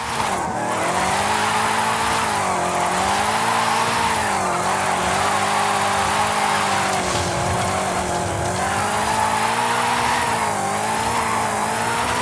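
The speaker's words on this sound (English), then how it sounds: "Drifting uphill." Car drifting uphill in Forza Horizon 5, engine droning and rising and falling in pitch as the tires squeal and skid continuously, loud and close, with no talking.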